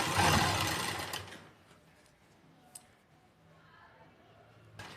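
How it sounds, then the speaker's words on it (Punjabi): A sewing machine stitches lace onto the edge of a dupatta, with a loud, close burst of motor and needle noise in the first second before it drops to a quiet hum with faint clicks. "ਬਸ ਇਦਾਂ ਹੀ ਨਾਲ ਨਾਲ ਕਰਕੇ ਸਿਲਾਈ ਲਾਉਂਦੇ ਜਾਣਾ"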